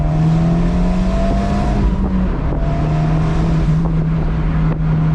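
An Abarth 124 Spider sports car engine rumbles loudly with a throaty modified exhaust, holding a steady drone that lifts slightly in pitch, close by and without talk.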